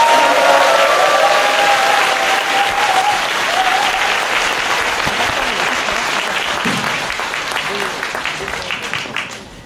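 An audience at a live talk show applauds the guest of honour, a long, loud, continuous roar of clapping that tapers slightly toward the end, with a voice speaking over the opening seconds.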